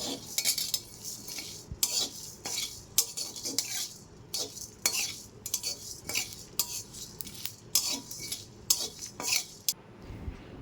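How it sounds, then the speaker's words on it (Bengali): Dry red chillies, cumin and coriander seeds roast in a dry pan while a utensil scrapes and clinks against the metal in quick, irregular bursts, close and fairly loud. "আগে আমি শুকনো লঙ্কা, জিরে, ধনে ভেজে ঠান্ডা করে গুঁড়ো করে নেব।"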